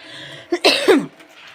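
A few sharp, close coughs in quick succession from a sore, scratchy throat, loud and alone, with a throaty rasp.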